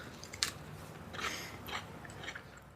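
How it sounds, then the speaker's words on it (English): A crunchy ginger snap cookie is bitten and chewed nearby, giving a few sharp crisp cracks followed by softer grinding crunches, with no talking. "Oh, I can hear the crunch over here. Yeah, it's a loud crunch."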